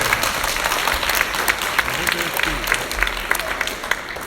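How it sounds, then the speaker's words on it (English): Audience applause for a young performer named Kira at a live youth legislative theatre event, steady dense clapping throughout with a lively crowd murmur beneath it. "let's give Kira a big round of applause"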